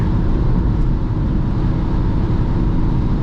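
Steady low engine drone and road rumble from a 2005 VW Passat B5 1.9 TDI diesel cruising in fifth gear on a highway, constant and loud without pauses.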